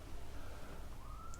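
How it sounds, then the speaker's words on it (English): A police siren wails faintly in the distance at Southampton, its tone sliding upward under a steady wash of background noise. "sorry about the siren in the background"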